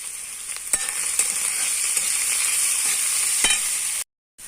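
Banana flower sautéing with salt and turmeric in a home kitchen pan, a steady close sizzle with a few soft stirring scrapes, no talk, cutting off abruptly near the end.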